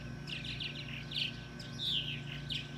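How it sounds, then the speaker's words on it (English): Sparrows give quick repeated high chirps in short bursts while purple martins chase them off near a martin house, with a steady low hum running underneath. "Sparrows are freaking out."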